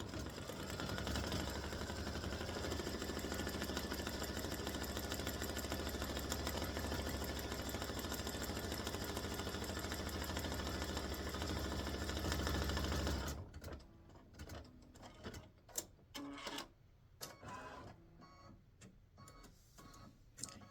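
Embroidery machine stitching out a football helmet applique, a steady loud rapid whir and needle clatter for about thirteen seconds, then stopping into quieter clicks and handling noises.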